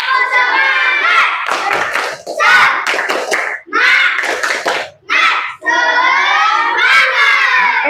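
Schoolchildren repeat a group clapping chant, loud unison shouting broken by quick rhythmic bursts of claps, all close by in a classroom.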